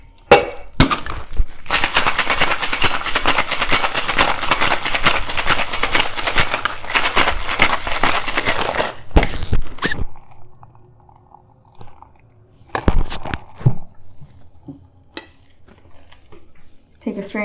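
A cocktail with ice, optionally tinted with charcoal, shaken hard in a shaker: a dense, rapid rattle of ice lasts about eight seconds, then stops abruptly, followed by a few scattered clinks and near silence.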